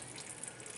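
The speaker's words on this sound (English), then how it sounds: "I'm going to try and let all this water drain out of it first" Water trickles and runs steadily out of a manure spreader being drained during repair, a faint continuous outdoor flow.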